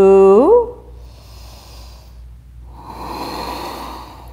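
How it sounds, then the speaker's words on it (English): Deep breathing during an Ashtanga yoga session: a loud, close, long nasal exhale opening, then quieter airy breath sounds and a slow hissing inhale rising toward the end, with no talk. "long deep breath in"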